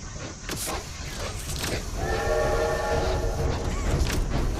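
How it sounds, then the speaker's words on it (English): A train whistle sounds in the Poppy Playtime video game, a steady tonal blast over a busy mechanical rumble and clatter. "pull the train whistle 3 times"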